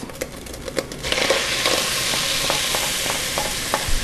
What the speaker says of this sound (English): Now that the beef is nice and brown and the onions are tender, I'm going to add the tomatoes.